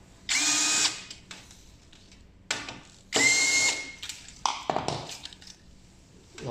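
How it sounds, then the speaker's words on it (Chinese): A power driver backs out two screws from the key panel of a Vitesse electric fireplace: two short, close whirring bursts, each followed by clicks and rattles as the screw and tool are handled. "旋掉2个螺丝，"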